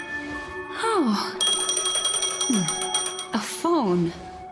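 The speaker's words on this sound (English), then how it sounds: "A phone. Wanna listen in?" A telephone rings in Honkai Star Rail, bright repeated electronic trills in several bursts, layered with sliding wail-like tones and game music.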